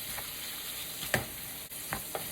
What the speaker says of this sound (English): You mix it so you can get as much of that seasoning on the meat as possible